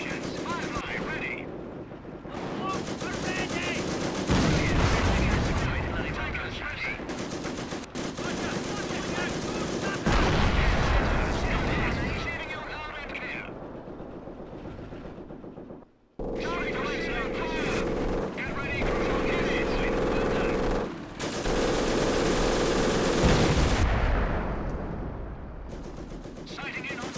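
Gunfire and artillery in the World War II strategy game Company of Heroes, with dense sustained machine-gun rattle, booming blasts and engine rumble forming a loud continuous battle din, broken by a brief lull and overlaid by radio-style unit voice lines.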